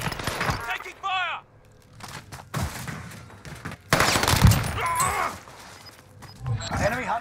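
Warzone gunfire erupts in rapid bursts of sharp cracks that come in clusters throughout, loud and close, while several players talk urgently over the shooting.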